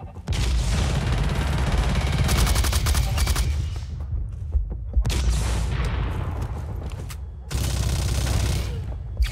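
Gunfire in the multiplayer shooter Blacklight: Tango Down during a team deathmatch on the Curfew map, with loud rapid automatic bursts and single shots in dense stretches separated by short lulls, close and dominant.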